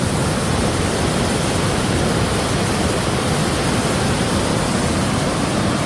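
Cross River waterfall beside Highway 61 on Lake Superior's North Shore, running with a bit more water than usual, pours in a steady, loud, broadband roar that fills the whole stretch without a break.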